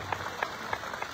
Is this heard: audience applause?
yes